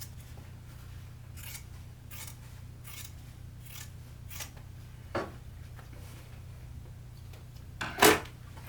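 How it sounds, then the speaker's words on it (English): Scissors snip through the fabric seam allowance of a sewn zippered pocket on a bag, with about seven short, evenly spaced cuts followed by a louder close snap. The room is otherwise quiet and nobody speaks. "I'm going to trim down to about 1/8 of an inch"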